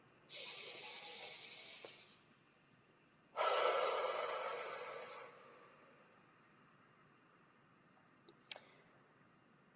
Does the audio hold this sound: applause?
no